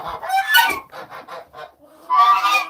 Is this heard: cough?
no